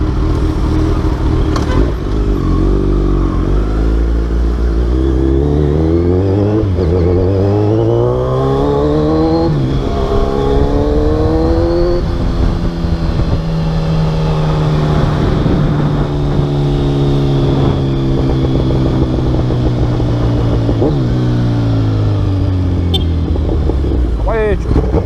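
A Kawasaki Z1000 with a full exhaust system, revved hard and held at high rpm, its loud close engine note rising, falling and sustained in long sweeping pulls for about twenty-five seconds.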